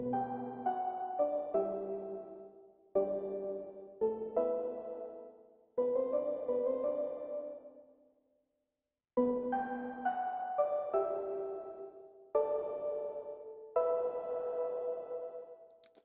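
Two tweaked copies of the same synth preset layered into a melodic phrase from a remix, bright tonal notes in short repeated bursts with a brief gap midway, no voices.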